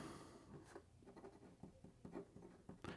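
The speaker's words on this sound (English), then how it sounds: "So here we go with the writing sample for the Namiki" Medium 14k gold nib of a Namiki Nippon Art fountain pen scratching across paper in a writing sample, soft irregular strokes and taps at close range with no one talking.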